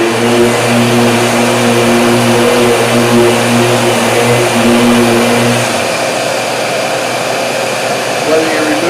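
A polishing machine buffs car paint through an interface pad to remove dirt nibs, whining with a steady motor hum that stops partway through and leaves a rougher rushing noise.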